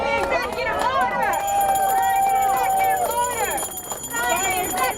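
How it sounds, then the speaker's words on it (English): A crowd of progressive protesters chants a repeated slogan in unison, loud and close, with overlapping voices and a rhythmic, insistent cadence. "there you hear the crowd of progressives chanting, sign the executive order, sign the executive order"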